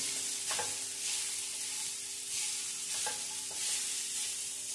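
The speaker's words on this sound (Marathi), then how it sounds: "बटाटा टाकल्यानंतर आपल्याला थोडंसं परतून घ्यायचं आहे." Grated potato sautéing in a hot pan, a steady sizzle with a few scraping stirs of the spatula at intervals, close and fairly loud with no talking.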